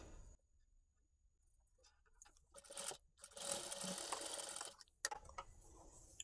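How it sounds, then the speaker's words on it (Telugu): A sewing machine stitches thread piping onto straight-cut saree cloth, starting quietly and building into a sustained close whirring run of stitching before stopping, then a brief clatter. "ఇలా చివరి వరకు కుట్టుకుంటూ వచ్చిన తర్వాత మనకి ఎంత వరకు కావాలో థ్రెడ్ అంత వరకు ఉంచుకొని ఇలా కట్ చేసుకోవాలండి"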